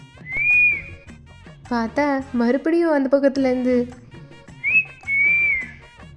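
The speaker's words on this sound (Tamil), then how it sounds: "ஒரே விசில் சவுண்டாக கேட்குது" A person whistles a long high rising tone and then a second two-part tone, with a young voice speaking loudly in between.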